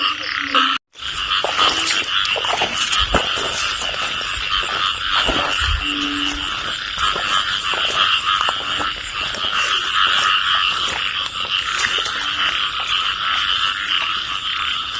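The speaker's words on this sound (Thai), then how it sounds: "ได้เป็นอึงอ่างครับผม จับคู่แล้วตามเป็นคู่ไง" Banded bullfrogs croak after the first heavy rain of the season, with paired males in a rural village calling loud and close in dense overlapping rhythms that continue steadily with no voices.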